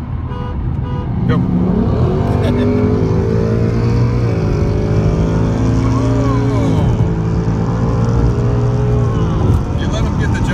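Dodge Challenger Scat Pack and a Mustang GT 5.0 accelerate hard in a street race, loud engine roar climbing through gear changes as pitch rises and drops, heard from inside a car with three occupants.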